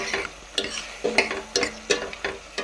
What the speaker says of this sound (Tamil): தக்காளி நல்லா வதங்கிட்டோம் ஓப்பன் பண்ணிடுவோம்